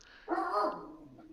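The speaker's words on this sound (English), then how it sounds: "It's my dog, Azathoth. He's chatty" A dog barks in one loud, close burst of yappy, slightly whining vocalization, trailing off into a quieter tail with no talk.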